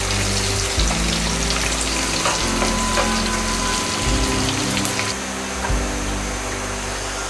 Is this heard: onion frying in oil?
yes